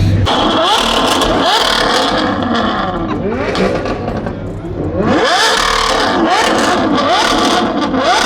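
A powerful V12 supercar engine revs hard several times, rising and falling in loud, close roars, with brief quieter dips between the pulls.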